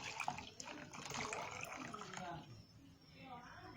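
Warm water pours into a bottle being readied for a yeast experiment, a close splashing, gurgling stream that thins and fades after a few seconds.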